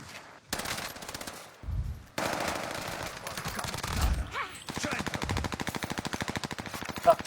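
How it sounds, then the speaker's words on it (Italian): Rapid bursts of gunfire from a video game, crackling in short volleys and then a long fast machine-gun-like rattle of evenly spaced shots, fairly close, with no talk over it. "Spari al cadavere."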